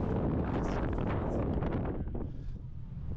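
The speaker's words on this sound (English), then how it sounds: "wind is crazy." Strong wind gusts batter the microphone beside a sea diving tower with several platform heights, a loud, steady roar that eases slightly toward the end, with no voices.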